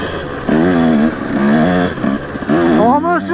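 KTM 150 dirt bike two-stroke engine revving hard while riding through woods, loud and close, with the pitch rising and falling in repeated throttle bursts and a voice partly heard underneath.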